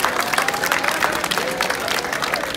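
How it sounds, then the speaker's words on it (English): Applause at a school homework awards ceremony, a busy crowd clapping steadily with some chatter underneath, fairly loud and close throughout. "Big applause for everyone."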